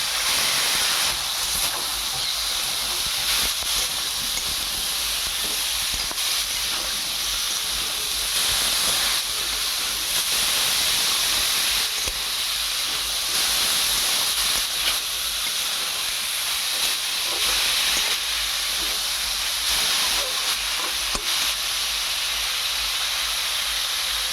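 Carrots and potatoes sizzling in a hot pan for a prawn, capsicum and carrot dish, with a dense, steady hiss of frying that holds level throughout, close and fairly loud, with no stirring accents or voices.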